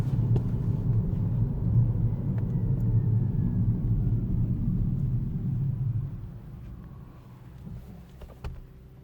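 Peugeot e-208 electric car driving slowly, a low steady road rumble and faint motor whine inside the cabin that fades quieter toward the end, with a few small clicks.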